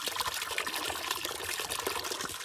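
Coolant and flush water rushing out of a 2003 Cadillac CTS radiator, a steady loud splashing and gurgling stream that runs without pause.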